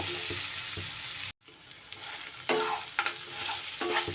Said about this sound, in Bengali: সব কিছু মিশিয়ে এবার এইভাবে লো ফ্লেমে কিন্তু নাড়িয়ে চাড়িয়ে করে নিতে হবে।